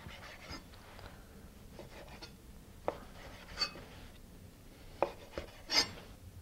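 A knife trims the excess edges from stacked bread and prosciutto sandwiches, giving soft scraping, rasping cuts with a few sharper taps, quiet and close with no talking.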